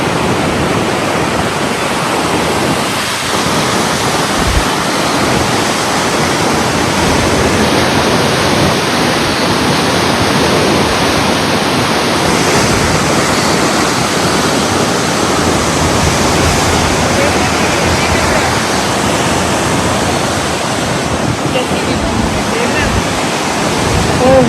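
Water rushes out of a tunnel in the Naran valley, a loud, continuous roaring wash with no letup, close and powerful throughout.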